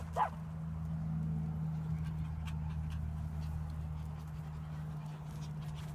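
Havanese puppies pant softly and yip once near the start, the sounds small and faint over a steady low hum in a quiet room.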